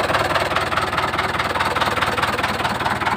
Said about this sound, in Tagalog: painitin mo lang 10 minuto bago natin i-drive